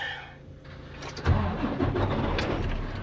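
A car engine cranks and catches, then settles into a steady rumbling idle, close and moderately loud.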